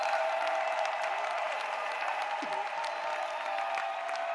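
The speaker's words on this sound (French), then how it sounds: "Let us add clap offering to that." Church congregation at an evangelical gathering clapping as an offering, with a dense, continuous wash of applause from a large crowd, steady and moderately loud throughout.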